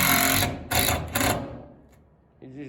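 A power drill drives 3-inch screws through a sole plate into a floor joist during interior wall framing, giving short loud whirring bursts that trail off, with a voice starting at the end.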